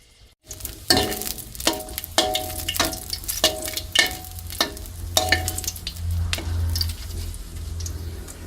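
Eggs frying in a pan for Thai son-in-law eggs, a steady crackling sizzle with repeated clicks and taps of a utensil against the pan, close and alone without talk.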